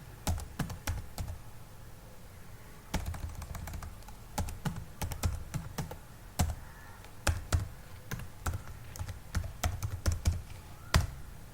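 Rapid keystrokes on a computer keyboard as a repository password is entered, irregular bursts of close, crisp clicks with brief pauses and one sharp final press, no voices.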